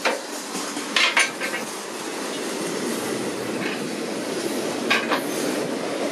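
A big cargo train rumbles past nearby, steady rolling noise with metallic clanks and clattering bursts, continuous and loud throughout without speech.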